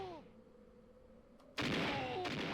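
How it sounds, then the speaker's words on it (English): Barrel cannon in Donkey Kong 64 blasting once, a sudden loud boom that rises out of a quieter, droning background and rings on with game music for the final second. "being blown from one barrel to another"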